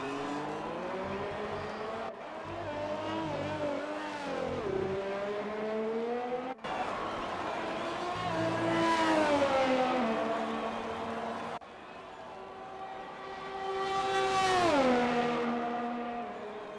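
A Formula-style race car engine screams through a lap of the Mexico circuit in an online racing sim league, rising and falling in pitch through gear changes, braking and acceleration, loud and close with brief tire squeal and no talk over it.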